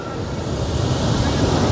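Water plunging at Gira waterfall, throwing up mist, makes a steady, dense roar close by that holds at an even loudness without a break.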